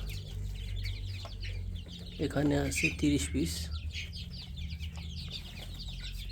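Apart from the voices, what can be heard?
chickens clucking on a poultry farm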